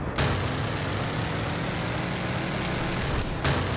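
A damaged, smoking airplane in Just Cause 4 drones steadily in flight, a continuous broadband engine and wind roar at even loudness, with brief whooshes at the start and end.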